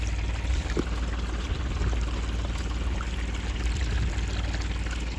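Water pours steadily from a container onto the base of trees being treated with a tree medicine, a continuous close splashing flow running alone throughout.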